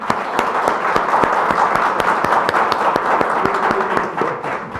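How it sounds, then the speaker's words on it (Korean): Seminar audience at a 2017 intellectual property policy forum clapping together, a dense, steady burst of applause that holds evenly throughout and tapers slightly at the end. "우리 박정 의원님께서 좀 늦으셨지만 저희가 다 양해하는 의미에서 박수 한번 쳐주시기 바랍니다"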